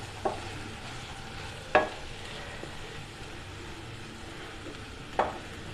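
Chicken pieces for a pepper fry sizzle quietly in a pan, with a soft continuous fry hiss broken by three or four sharp clinks and scrapes of a utensil against the pan.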